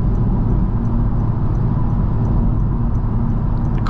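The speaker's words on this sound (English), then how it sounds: "There is a little bit of wind noise and a little bit of road noise." Steady, loud road and wind noise inside a 2024 Honda Civic with a 1.5 turbocharged four-cylinder cruising on the highway at 72 mph, a continuous low rumble with airy hiss and no talking.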